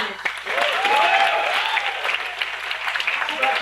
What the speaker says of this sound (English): A big round of applause for our organizing team